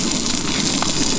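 Rainbow trout sears in a hot pan aboard a boat on Deer Creek, giving a loud, steady, close sizzle with no pauses or talk.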